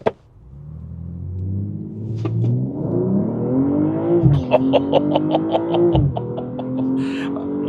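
A 2025 BMW M240i accelerates hard, heard from inside the cabin: the engine note climbs steadily in a deep rising drone, breaks briefly at quick gear changes, then pulls again, loud and continuous.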